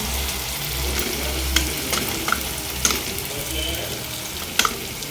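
Chopped tomatoes frying with spices in oil in a pan, a continuous loud sizzle broken by a few sharp clinks and scrapes of stirring, with no talk over it.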